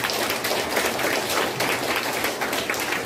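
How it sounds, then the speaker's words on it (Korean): Church congregation applauding in celebration at a founding thanksgiving and dedication service, a steady, even wash of many hands clapping for about three seconds with no talking over it. "우리 모두를 서로 바라보면서 또한 축하의 박수를 보내주시기 바랍니다"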